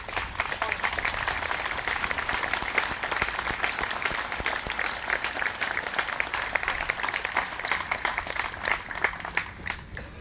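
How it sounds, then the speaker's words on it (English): An audience at a Cumberland County Memorial Day service applauds warmly, with steady, dense clapping from many people that lasts about ten seconds. "Can I get a warm round of applause for Mr. Lewis?"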